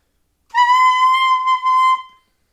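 Alto saxophone mouthpiece blown on its own, one sustained bright squealing tone lasting about a second and a half, close and loud with a slight wobble.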